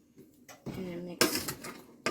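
A spoon clatters and scrapes against a small container while turkey is mixed in a home kitchen, a few short clinks and scraping bursts, fairly close, with a brief voice in between.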